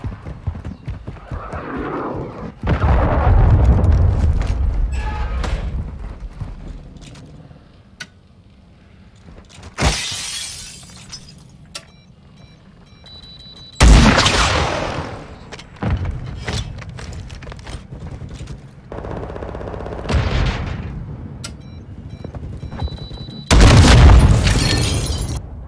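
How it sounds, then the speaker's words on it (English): Cruise missile strikes in Modern Warfare 2 gameplay: several loud, booming blasts with crackling debris arrive in irregular bursts, separated by quieter stretches of rumble and clatter. "Hostiles launched a cruise missile."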